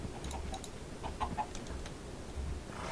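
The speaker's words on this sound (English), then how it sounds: "Somehow we have chickens everywhere." Chickens cluck in a farming video game, several short, soft clucks scattered over a steady background hum and game noise, with no talking.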